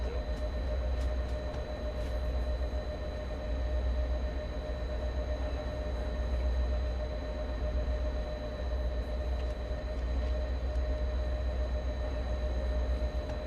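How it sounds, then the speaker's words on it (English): An MBTA five-car commuter train in the video game Train Sim World 2 rumbles steadily with a constant low drone and faint tonal hum, unbroken and fairly loud with no voices. "That train's leaving."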